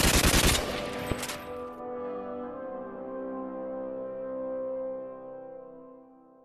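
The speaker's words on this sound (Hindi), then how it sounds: "चलो सब हवाई फायरिंग करो। करते रहो, फायरिंग करते रहो।" Rapid burst of automatic gunfire in the Free Fire video game, fired into the air as a ceremonial salute, loud and dense for about a second, then a sharp shot followed by a long ringing, fading tail.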